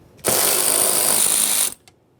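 A power tool drives out a 10mm bolt from the rear left window regulator bracket of a 2015-2020 Ford F-150, giving one loud, harsh whirring burst of about a second and a half followed by a faint click.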